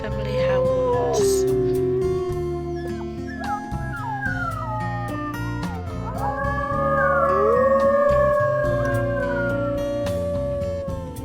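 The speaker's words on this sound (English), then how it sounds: "we're gonna lay here with them. And howl. The little family howls." A wolf family from the video game WolfQuest 3 howls together, several long overlapping tonal howls rising and bending over a low game soundscape, steady and fairly loud throughout.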